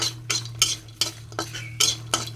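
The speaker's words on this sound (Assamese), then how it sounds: "ইয়াত এতিয়া মই শুকান জ্বলা, কাঁচা জলকীয়া আৰু নহৰুখিনি ভাজি ল'ম" Dried red chillies, green chillies and garlic are fried in a pan, heard as a regular run of quick metallic scrapes from a utensil stirring against the pan, about three a second, with little sizzle and a low background hum.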